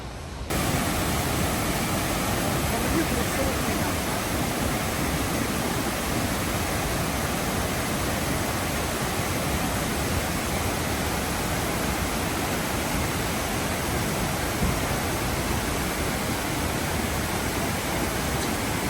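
A steady, loud roar of rushing water fills the whole stretch, unbroken and constant like a waterfall close by, near Luang Prabang, Laos.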